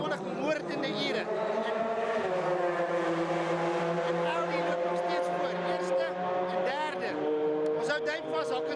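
Race cars at the Le Mans 24-hour race, a continuous engine whine with shifting pitches and gear changes, heard beneath steady talking throughout.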